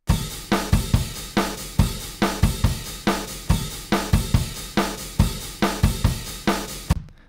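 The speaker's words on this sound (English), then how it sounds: "so just drums by themselves, it sounds like this" A drum kit plays alone in a home-studio mix, with punchy kick and snare hits in a steady, driving rock beat. The beat cuts off abruptly near the end.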